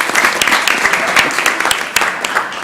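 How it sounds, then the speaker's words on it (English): Audience at a city council meeting clapping for a group of girls, a lively burst of close, crisp individual claps that carries steadily throughout. "let's give them a round of applause"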